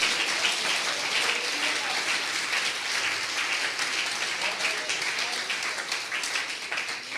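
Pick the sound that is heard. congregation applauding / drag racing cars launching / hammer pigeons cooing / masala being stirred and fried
congregation applauding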